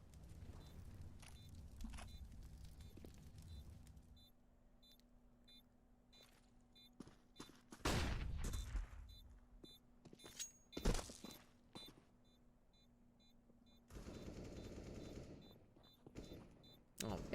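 Counter-Strike gunfire on Dust2 during a pro match: scattered sharp shots and short bursts, a few loud cracks standing out over quiet game ambience and occasional footsteps, with a commentator's voice talking in stretches.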